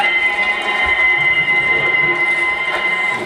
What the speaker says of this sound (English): the robot you can hear is from Písek